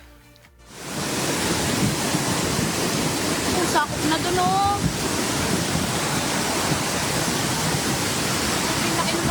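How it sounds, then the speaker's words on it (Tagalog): Fast, strong muddy floodwater rushes down a river during flooding in Lipa, Batangas, a loud, steady roar of churning water starting abruptly and continuing unbroken, with a brief voice speaking over it. "makikita ang mabilis at malakas na pag-agos ng tubig sa ilog ng kulay"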